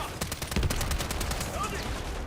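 Rapid bursts of automatic gunfire crack out in a hardcore team deathmatch video game, a dense rattling run of shots filling the moment alongside a brief voice.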